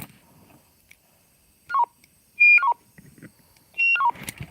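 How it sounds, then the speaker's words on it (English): A handheld two-way radio transmitting to a second unit inside a tent gives three short electronic beep sequences, each a few quick falling tones, loud and close, with faint rustling between them. "I've got the beeps on. That's me transmitting from this orange one into that one."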